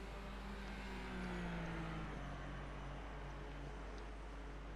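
A race car engine in the iRacing sim during a league race at Donington drones faintly and steadily throughout, its pitch rising and falling in slow sweeps.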